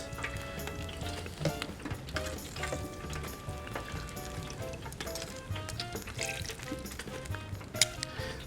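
Vegetable fritters frying in a basket in hot oil make a steady bubbling sizzle with light clinks and stirring sounds, and one sharp knock near the end, with no voices.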